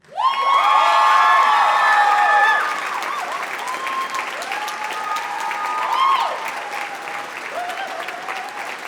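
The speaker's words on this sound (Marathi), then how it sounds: "टाळ्यांचा कडकडाट झाला" A crowd bursts into loud, sustained applause mixed with cheering and high whoops, strongest at the start and then settling into steady clapping that carries on to the end.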